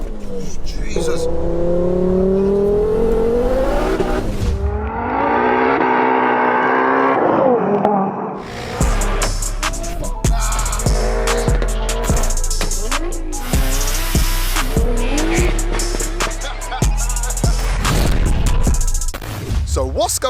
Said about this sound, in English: We have got a Mark II Ford Focus RS running 689 brake horsepower, all to the front wheels.